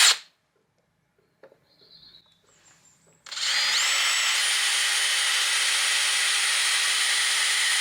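A power drill boring into wood, with a few quiet handling taps and bumps before the motor spins up to a steady, loud whine that runs for several seconds.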